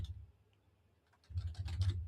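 Computer keyboard typing in an office help-desk setting: a quiet pause, then a rapid burst of close, crisp key clicks over the last second or so.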